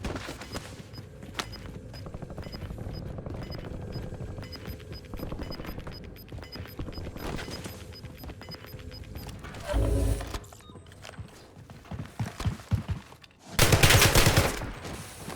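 Gunfire rattles through a Call of Duty Resurgence match: scattered shots and bursts, at times distant, swell into louder close fusillades near the end, with no talk.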